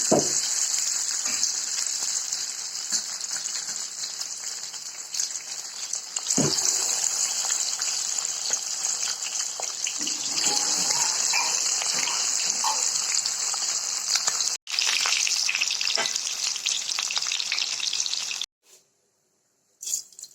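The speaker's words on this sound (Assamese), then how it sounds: "এইখিনিও মই এতিয়া এনেকৈ ভাজি ল'ম।" Fish pieces frying in oil in a home kitchen, a continuous loud hissing sizzle with brief bursts of crackle and a couple of sharp breaks, fading to near silence at the end, no voices.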